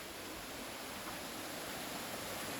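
A small waterfall in a garden, steady broadband rush of falling water continuing without a break, fairly soft and alone with no voices.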